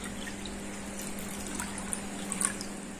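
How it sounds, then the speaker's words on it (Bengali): Water pours steadily into a pot for chicken feet soup, a soft continuous trickle with a little splashing near the end, fairly quiet and close. "আমি 2 বাটির মতন জল দিয়ে দেব।"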